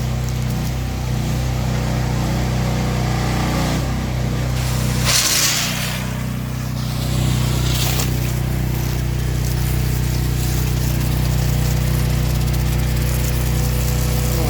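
A pressure washer runs during a full house wash, used like a blower, a loud steady engine drone with a harsh spray burst in the middle.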